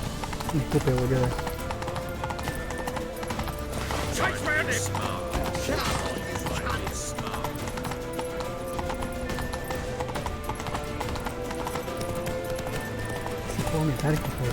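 Horse galloping in the video game The Witcher 3, with steady rapid hoofbeats throughout, under loud talk and game sounds.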